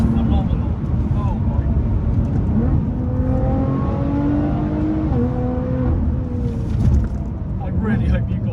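Lotus Evora 400 IPS engine droning steadily while driving, with rising and falling revs and wind noise, and someone talking over it throughout.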